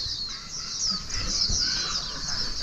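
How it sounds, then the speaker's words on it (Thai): Morning birdsong in a remote rural village, several birds calling and chirping continuously over faint background ambience, no voices. "สังเกตฟังเสียงนก ตอนเช้าๆกับตอนแรงๆ จะมีนก หลายที่"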